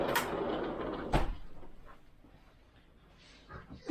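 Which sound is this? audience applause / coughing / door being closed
door being closed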